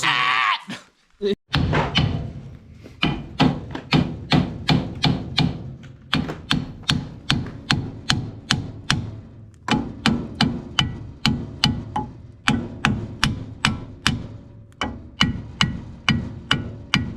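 Heavy sledgehammer blows strike metal on a 1969 Datsun 1600 barn find over and over in a fast, steady rhythm, loud and close, with brief pauses between bursts of pounding.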